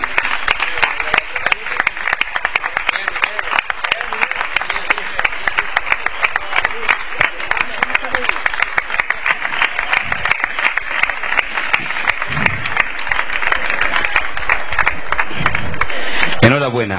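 An audience claps loudly and continuously at the award ceremony of a national flamenco singing contest for serranas in Prado del Rey, a dense, sustained wash of applause with a voice speaking over it.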